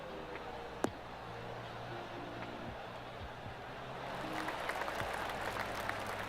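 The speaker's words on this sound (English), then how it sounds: "That deserves a golf clap." Golf gallery applause in PGA Tour 2K23, a soft, distant patter of clapping that swells over the last couple of seconds after a quiet ambient stretch with a single sharp click near the start.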